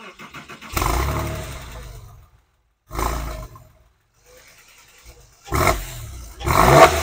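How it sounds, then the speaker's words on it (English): A Porsche 911 performance exhaust revs in three throaty bursts, each rising and falling away, separated by short stretches of quiet idle. "it just makes it a little bit throatier and sound more like a Porsche should do"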